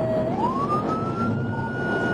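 Police car siren during a pursuit, a steady wail rising in pitch and holding high, loud and continuous over road and engine noise.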